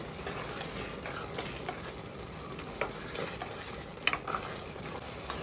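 Semiya kesari is stirred in a pan after crushed cardamom goes in, a soft, continuous bubbling hiss with occasional light spoon scrapes and one sharper clink, close and steady without speech.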